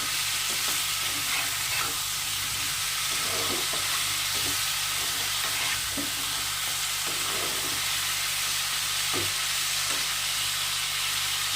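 Vegetables and spices sauté in a pan, pumpkin and greens for a prawn dish, with a constant loud sizzle and repeated soft stirring scrapes throughout, no voices.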